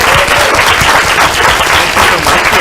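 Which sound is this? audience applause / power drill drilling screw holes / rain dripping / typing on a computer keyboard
audience applause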